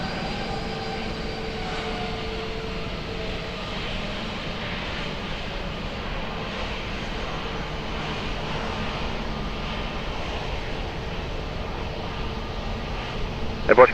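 A fixed-wing airplane landing on runway 20 at Lisbon Airport, a steady loud roar of jet engines sustained throughout, swelling slightly at the very end, with radio chatter underneath.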